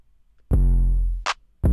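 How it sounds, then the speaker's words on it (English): A single beat hit with a Bit Crusher distortion effect, a loud tone about three-quarters of a second long carrying a thin high overtone, followed by two short sharp clicks, with silence between. "if I put the bit crusher back on, it has like a little overtone."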